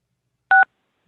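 A single short burst of telephone keypad tones as a caller on a phone line joins a group practice session, one clear dual-tone beep lasting a fraction of a second, loud and isolated against silence.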